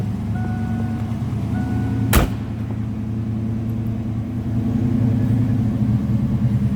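A 1988 Ford Mustang GT 5.0 V8 idles through Flowmaster exhaust with a low, steady growl, close by, with a sharp click partway through and a slight rise in rumble toward the end.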